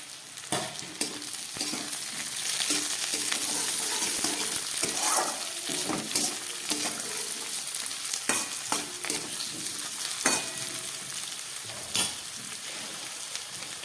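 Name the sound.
chopped tomato added to hot pan, frying and sizzling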